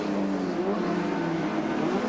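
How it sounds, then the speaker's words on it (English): A Ford Cortina racing in a historic Group N support race at Bathurst climbs the hill from Repco Bend, its engine a steady, loud, sustained roar under hard acceleration, with no voices. "Cortina using all of the track of the exit there to Repco Bend. They climb the hill, bound for BP."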